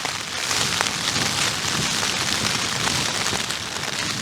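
Steady, dense rain drums on a taut tent roof overhead while wild camping, a constant close hiss with occasional heavier drops and no voices.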